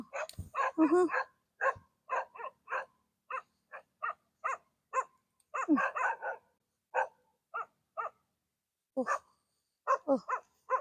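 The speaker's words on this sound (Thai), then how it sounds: "เก็บกระยากพอแรงแล้หมายังจะเห่าอีกนะ่ะ" Close, insistent barking from a dog during outdoor moringa picking, a long run of sharp barks in uneven bursts with brief pauses, some rougher and lower than others.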